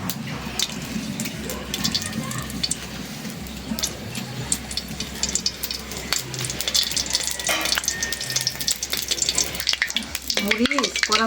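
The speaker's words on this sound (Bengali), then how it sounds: "সয়াবিন তেল দিলাম। দিয়ে দিলাম শুকনা মরিচ।" Dried red chillies frying in soybean oil in a home kitchen pan, a steady crackling sizzle with scraping stirs, running close and fairly loud throughout, with some background noise underneath.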